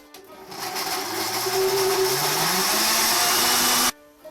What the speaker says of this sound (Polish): I wrzucamy jedną gałązkę mięty. Miksujemy około 30 sekund.